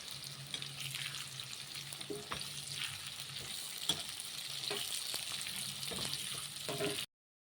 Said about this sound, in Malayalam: ബ്രൗൺ കളറാകുമ്പോൾ വരെ മൂപ്പിച്ചെടുക്കാം